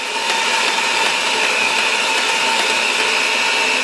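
An electric mixer beats muffin batter for jumbo chocolate chip muffins, a steady continuous motor whir with a bright whine, loud and close, running alone without talk.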